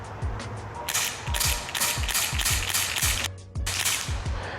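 Elite Force H8r Gen 2 airsoft revolver fires a rapid series of close, sharp pops, each followed by the ratcheting click of the cylinder advancing, with a short pause between strings of shots.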